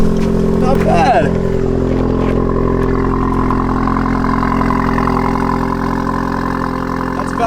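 Volkswagen Golf R with an IE Stage 2 tune idling with its exhaust valves closed, a steady low rumble that stays even throughout, with a person talking over it.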